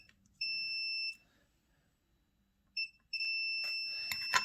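Sharp electronic beeps sound in steady tones: one long beep, a pause, then more beeps, with faint clicks and handling noise at the end.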